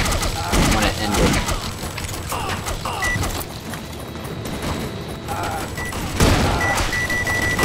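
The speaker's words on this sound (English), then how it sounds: "The guy is shooting it." Gunfire in the video game Foreign Legion: Buckets of Blood crackles in dense, overlapping bursts with mechanical clatter, loud and busy throughout, with a heavier volley near the end.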